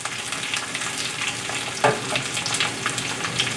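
Chinese sausage and egg omelette cooking in a pan over low heat gives a steady, even sizzle with a few soft pops and one light clack partway through. No one speaks.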